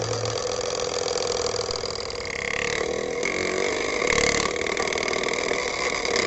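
A bicycle rigged with tape to mimic a KTM Duke motorbike gives a continuous buzzing, engine-like rattle that swells and dips slightly as it rides, loud and close throughout.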